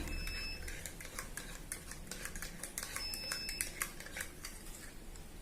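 Passion fruit pulp mixed with water, stirred with a spoon in a glass, giving a steady run of light clinking and scraping ticks, close and fairly faint, with no voices.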